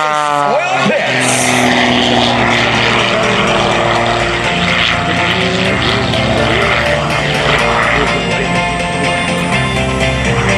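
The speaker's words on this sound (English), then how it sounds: "inbound from Showlab, Mr. Mike Wiskus of the Lucas Oil Pitts" The Lucas Oil Pitts aerobatic propeller plane performs at the 2021 New York International Air Show. Its engine drones loudly and steadily with shifting pitch as it maneuvers, alongside crowd noise and a public-address voice.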